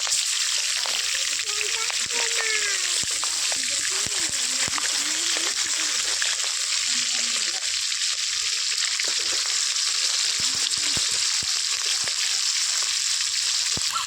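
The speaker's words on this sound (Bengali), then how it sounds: "মাছগুলো আমার লাল লাল করে ভাজা হয়ে গেছে" Fish frying in hot oil in a kadai gives a steady, loud sizzle that runs throughout, with occasional spatters, while a person talks over it.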